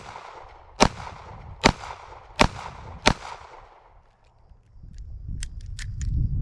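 Four sharp, loud gunshots from a Smith & Wesson Model 642-1 Airweight snub-nose revolver crack at roughly even intervals, each with a brief ringing tail, followed by quieter handling clicks and rustling.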